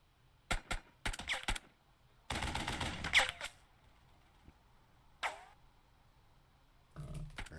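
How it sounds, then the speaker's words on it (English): Gunfire in the tactical video game Burden of Command, bursts of sharp rapid shots separated by quiet gaps, with one longer volley near the middle and a few more bursts later on. "Now we can shoot at him."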